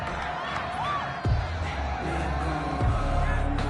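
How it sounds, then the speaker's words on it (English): Stadium crowd in a Madden football video game cheering and roaring at a steady moderate level, with a few louder swells and whoops rising from the broad noise. "How about some applause for the defense there?"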